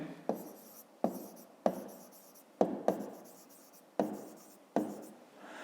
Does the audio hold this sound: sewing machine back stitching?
no